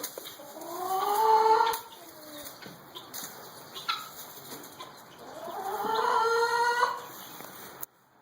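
Chickens and a rooster on a farm on a morning, with two long rooster crows a few seconds apart, sharp clucks and wing flaps between them, fairly close and loud.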